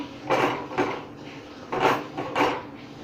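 Spatula scraping and clinking against a pan while egg curry is mixed, four distinct bursts of stirring scrapes in an uneven rhythm, close and moderately loud.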